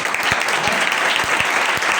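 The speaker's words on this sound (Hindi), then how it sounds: "मूसा के लिए जोरदार तालियां" Loud, dense audience applause for a leader named Moses, steady sustained clapping from a large crowd with no pauses.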